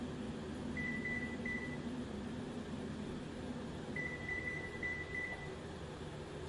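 Kitchen timer being set, giving two short bursts of thin electronic beeps over a quiet room hum.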